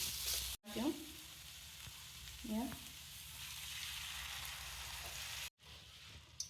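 Grated carrots sizzle in a pan for carrot halwa as milk is added, giving a soft, continuous frying hiss with a couple of brief stirring scrapes, fairly faint and close, with no talk.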